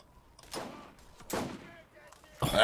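Enemy gunfire in the video game Borderlands, a few separate bursts of shots spaced over a couple of seconds, fairly faint and mid-distance, with a louder burst at the end.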